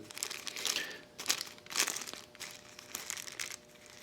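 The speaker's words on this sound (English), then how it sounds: "you take your baggie and you line up the hole that you just cut in it and you work it over" A plastic baggie crinkles up close as it is worked over a motorcycle clutch or brake lever for cable oiling, in several short, quiet bursts of rustling.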